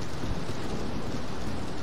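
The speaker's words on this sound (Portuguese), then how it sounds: "Olha a chuva." Steady heavy rain hisses continuously in the game Doors, a dense broadband wash with low rumbling underneath and no voices.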